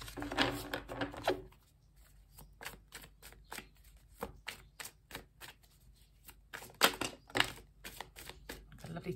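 A tarot card deck being shuffled, starting with a dense riffle and then giving way to a long run of sharp, regular card snaps and flicks, close up with no speech.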